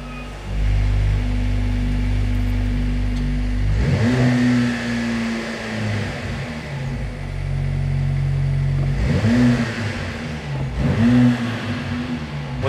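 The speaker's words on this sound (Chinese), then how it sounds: "四缸引擎我们要听声浪" A Mercedes-AMG SL 43 convertible's four-cylinder engine fires up and idles loudly up close, then revs sharply several times in distinct bursts that fall back to a steady idle between them.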